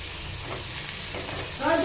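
Onions are fried until browned, almost blackened, giving a brief, steady close sizzle, and a voice starts just at the end.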